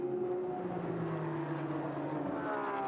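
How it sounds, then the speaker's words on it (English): Engine of a big Nissan GT3 race car in a Super GT 300 style race at Mandalika, a steady loud drone with sustained harmonic tones and no speech over it. "I go quiet for a second because I love listening to the engine, particularly of the big Nissan."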